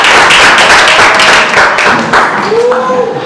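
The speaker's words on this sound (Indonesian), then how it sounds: "kita kasih tepuk tangan yang luar biasa untuk kelompok 4 untuk presentasi" A classroom audience claps for group 4 after its presentation, loud close hand claps in a quick burst that thins out toward the end, with a voice beginning to speak as it fades.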